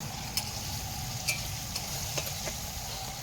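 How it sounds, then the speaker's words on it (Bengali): A low, steady hiss of beans frying in a pan on a wood-fired stove continues throughout, broken by a few faint clicks and taps of stirring; no one speaks. "এখন বিনস ভাজা হচ্ছে আর কি কাঠে উনুনে"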